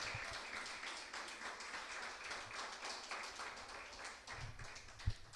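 A church congregation applauds together, a steady wash of clapping that holds evenly for several seconds, fairly faint and slightly distant, with a sharp thump near the end.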